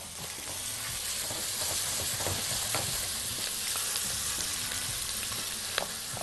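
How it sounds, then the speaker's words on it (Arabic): Kofta and potatoes stirred in a pan with a cube of butter, a steady loud sizzle of frying running throughout with scraping stir sounds and small clicks of the utensil against the pan. "وأقلب تقليبة كده حلوة. ممكن نديها إيه مكعب زبدة كده نطعمها مكعب زبدة حلو."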